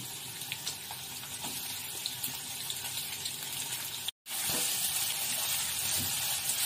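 Sliced onion hits hot oil in a kadhai for a vangi batata bhaji, a steady broadband sizzle that cuts out briefly then returns louder and fuller, close up with no talking.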